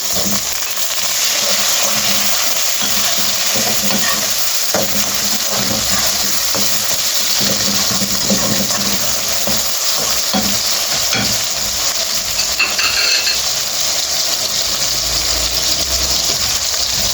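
Two tomatoes go into a hot pan for a desi-style egg curry and sizzle loudly and steadily, a continuous close frying hiss with small crackles and occasional stirring scrapes throughout.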